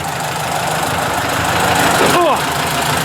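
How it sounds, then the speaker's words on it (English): A Ford 800 tractor engine idles loud and steady up close, a constant rough mechanical drone with a slight exhaust leak. Someone speaks briefly over it. "there's a bit of exhaust leak there"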